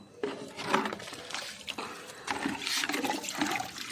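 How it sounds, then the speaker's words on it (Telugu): Water splashes and gurgles in short bursts as it is poured from a mug onto croton and moringa plants in a terrace garden, close by, with no talking. "దీనికి కూడా మూడు మగ్గుల నీళ్ళు పోస్తున్నాను"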